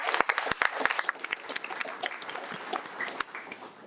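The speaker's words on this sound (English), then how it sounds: "let's give our student board members a round of applause" Applause at a school district board of education meeting for the student board members, a fairly faint round of clapping with dense, scattered hand claps that thins toward the end.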